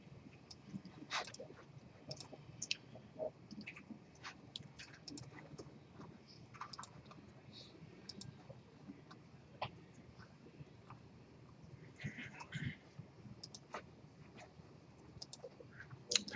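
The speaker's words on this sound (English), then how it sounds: "I'm going to go ahead and launch idle so that I can type it up." Code is typed into a Python IDLE editor on a computer keyboard during a lecture, heard as faint, irregular key clicks scattered over quiet room tone with no speech.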